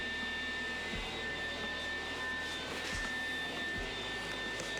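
Welding a rail repair on a Datsun, a constant loud hiss and buzz of the welder running without a break, with a few low thumps underneath.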